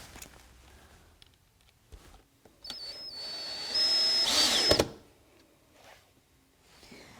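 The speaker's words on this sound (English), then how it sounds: "I'm attaching these 2x4s to the ceiling joist using screws. So I'm going to put my last screw in." Power drill driving a screw through a 2x4 into a ceiling joist in an attic, a short high-pitched whir that swells for about a second between quiet handling noises and light knocks.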